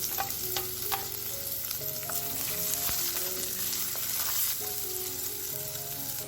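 Curry leaves, cinnamon bark, fenugreek seeds, onion and garlic fry in hot oil for a tempering, a loud continuous sizzle with occasional crackles and stirring scrapes, no talking.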